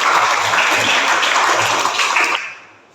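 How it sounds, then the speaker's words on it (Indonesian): Classroom applause from a group, loud dense clapping that runs steadily for over two seconds and then trails off quickly into quiet. "tepuk tangan untuk kita semua"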